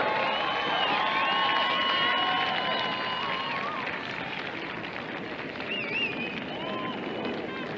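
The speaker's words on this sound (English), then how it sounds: "Applause for the winners!" A crowd at a rugby sevens final trophy presentation cheers and applauds the winning Jamaican team, a loud, steady roar of clapping and shouting with voices mixed throughout.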